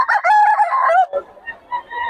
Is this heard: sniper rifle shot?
no